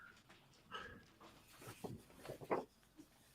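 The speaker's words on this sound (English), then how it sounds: "My doggy's back." A pet dog makes brief whimpering and snuffling sounds indoors, close to the microphone, in short irregular bursts with quiet gaps between them.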